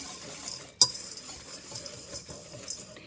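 A utensil stirs an oat, flour and brown sugar crumble mixture for raspberry bars in a bowl, making quiet scraping close by, with a couple of sharp clinks against the bowl.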